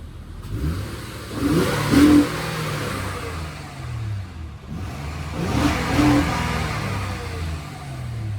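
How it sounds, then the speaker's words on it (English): Honda Accord V6 engine revving twice, each rev swelling and fading over a steady idle, heard up close with no talking. "I love the sound of that car."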